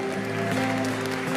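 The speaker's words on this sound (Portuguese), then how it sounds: "A igreja aplaude o nome de Jesus agora." A church congregation applauds during a service, with brisk clapping from many people heard over sustained, steady musical tones from instruments playing underneath.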